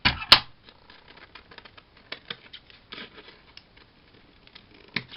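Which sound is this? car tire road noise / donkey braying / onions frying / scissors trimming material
scissors trimming material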